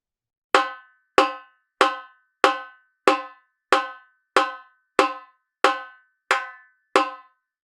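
Repinique drum played alone in a basic samba groove: eleven sharp, evenly spaced strokes, alternating between accents in the middle of the skin and rim shots near the edge, each with a quick ringing decay.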